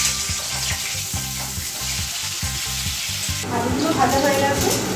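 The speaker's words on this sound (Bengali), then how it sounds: "ততক্ষণে আমি আলুটাকে ভালো করে ভেজে নিচ্ছি।" Potato pieces fry in hot oil in a pan for a chicken biryani, a steady close sizzle with rhythmic clattering of stirring and a brighter surge of spitting oil near the end.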